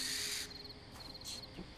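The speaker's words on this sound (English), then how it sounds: "Those owls make such scary noises" An owl calls at night, with a brief hoot and chirping trills in the dark amid a steady insect-like hiss, fairly faint and with no voices.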